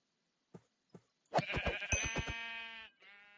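Sheep in the Web3 Minecraft-style game Hungry World give a loud, close bleat lasting over a second, preceded by two short soft blips and followed by a brief faint tone.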